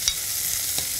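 Minced meat sautéing with grated carrot and zucchini in a pan, a steady broad sizzle with two brief stirring scrapes, close and continuous, no talking.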